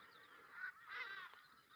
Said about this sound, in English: The Harida ibis are leaving their roosts